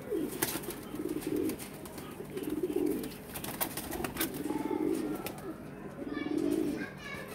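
Teddy pigeons coo close by in repeated low, throaty phrases roughly every second or two, with some chirps and someone talking faintly underneath.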